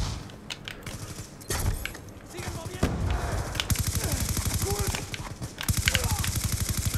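An SMG with extended mags in Call of Duty: Black Ops 2 fires long, loud, rapid bursts of tightly spaced shots with short breaks, mixed with other game sounds and someone talking over it.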